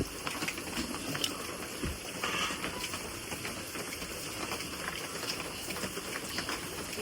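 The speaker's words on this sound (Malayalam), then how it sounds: "ഇവിടെയാണെങ്കിൽ ചെറുതായിട്ട് ഇങ്ങനെ മഴ പൊടിയുന്നുണ്ട്" Soft, steady patter of light rain falling on surfaces, a fine continuous hiss with scattered small drips and no voices.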